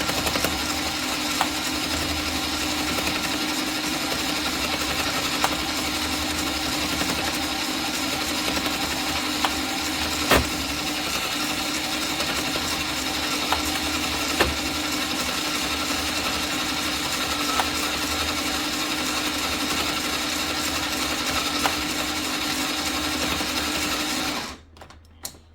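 A screwdriver drill attachment whirs steadily and loudly for about twenty-five seconds while winding yarn, a constant mechanical drone with a few faint clicks that cuts off abruptly at the end.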